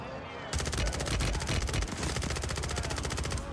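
SMG fire in Call of Duty Warzone on Rebirth Island: loud rapid automatic bursts that start abruptly and rattle on almost without pause, with a voice faintly under the shots.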